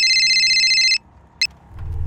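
A telephone ringing with a bright, electronic trilling tone that lasts about a second and then cuts off, followed by a short beep and a low rumble, with no speech.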